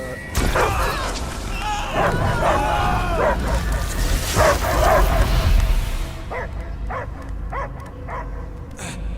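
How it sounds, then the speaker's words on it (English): Barks, yips and growly dog sounds come in loud bursts amid busy game effects in the video game Guardians of the Galaxy, then shorter sharp barks repeat near the end. "I hear only barking."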